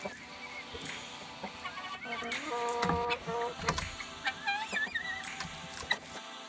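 Chickens cluck and call inside their insulated coop, with overlapping bird calls and rising chirps over a busy, fairly close background of shuffling and rustling.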